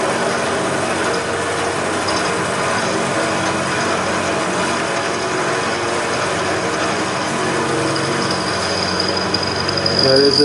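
Wilton vise being worked, grinding and ratcheting mechanically at a welded joint, a steady dense noise throughout with a louder burst at the end.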